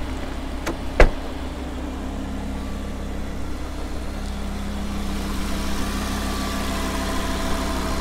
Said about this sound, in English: You can hear it's very healthy, very smooth, consistent, stable idle